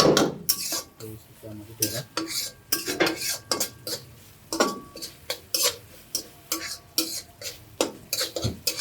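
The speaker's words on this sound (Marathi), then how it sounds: "आता थोडा कांदा परतेपर्यंत परतून घेणार" Chopped onion sautéing in a pan for a Kolhapuri chicken dish, with sharp, regular clanks and scrapes of a metal spoon against the pan every half second or so over a faint sizzle.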